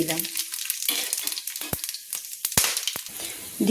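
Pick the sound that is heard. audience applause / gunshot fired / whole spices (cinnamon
whole spices (cinnamon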